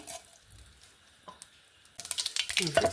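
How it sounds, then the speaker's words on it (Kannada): Mustard seeds sizzling in hot coconut oil for a tempering for brinjal chutney, a quiet lull giving way to a sudden crackling, popping sizzle that grows louder and busier. "ಈಗ ಇದಕ್ಕೊಂದು ಒಳ್ಳೆ ಒಗ್ಗರಣೆ ಮಾಡ್ಕೊಂಬ ತೆಂಗಿನೆಣ್ಣೆ ಹಾಕೊಂಡೆ ಸಾಸಿವೆ ಹಾಕೊಂಡೆ"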